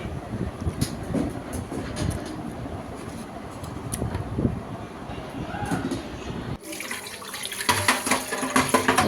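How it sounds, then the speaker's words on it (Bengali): Cups, plates and bowls washed under a running kitchen tap: muffled rumbling and clattering at first, then a steady, close rush of tap water over the dishes for the last few seconds. "এখন কাপ প্লেট বাটিগুলো এখন ধুয়ে নিব"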